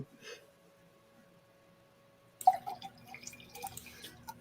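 Raspberry-scented drink poured from a can into a glass, a burst of splashing, fizzy liquid that starts suddenly after a quiet stretch with a faint drip, then keeps trickling and crackling up close.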